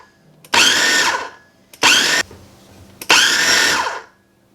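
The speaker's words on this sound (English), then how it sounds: "we're just gonna process this until our cranberries are all chopped. So I'm just gonna pulse it." A food processor pulses three times to chop cranberries for a holiday cranberry mustard, each loud whirring burst lasting about a second with brief quiet gaps between.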